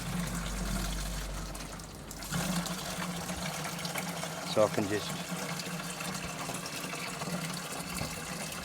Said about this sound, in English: Just fill the watering can up with water.